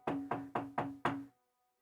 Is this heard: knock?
yes